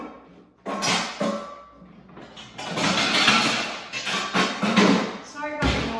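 Rummaging and clattering in a home kitchen while pulling out a rolling pin for cookie dough: a run of close thumps, knocks and scraping clatter, loudest in the middle and ending with a heavy thud.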